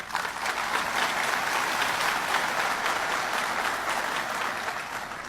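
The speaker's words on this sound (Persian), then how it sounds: "از شما هم امیدوار هستم که تشویقشان کنید" An audience at a peace consultative loya jirga assembly applauds, a dense, even wash of clapping from a large crowd, sustained for several seconds and fading slightly at the end.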